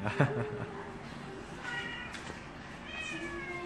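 A pet cat meows several times close by, with one sharp cry at the start followed by softer, drawn-out meows over background room noise.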